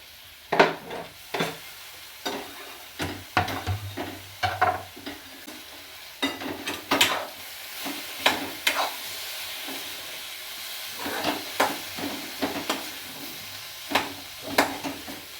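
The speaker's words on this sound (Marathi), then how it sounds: "फक्त आपल्याला 2च मिनटं छान परतून घ्यायचे आणि लगेच बटाट्याची भाजी शिजते" Potatoes stirred and sautéed in masala in a pan, with repeated scraping clatters of a spoon against the pan in an irregular rhythm over a soft, steady sizzle, close by.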